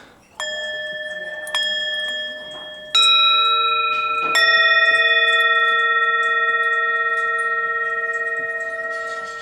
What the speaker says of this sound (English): The shops here are selling all these bells.